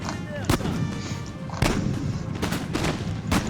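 Musket volleys from Napoleon's Young Guard infantry in a Napoleon: Total War Waterloo battle: several sharp, cracking reports spaced over a few seconds above a constant rumbling battlefield din.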